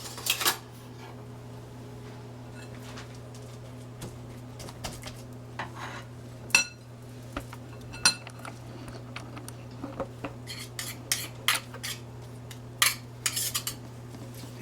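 A metal spoon clinks and taps against dishes in a kitchen while salmon patties are prepared, giving scattered sharp, close clicks over a low steady hum.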